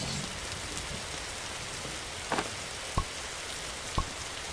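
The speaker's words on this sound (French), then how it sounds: "Il pleut, mais c'est chiant," Steady rain falls outdoors as a constant close hiss, with a few sharper drops or taps standing out now and then.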